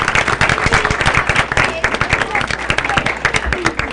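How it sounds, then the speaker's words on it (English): Close, crisp clapping from a room of people at a school board meeting, individual claps distinct and rapid, with some murmured voices mixed in. "let's give them a big round of applause"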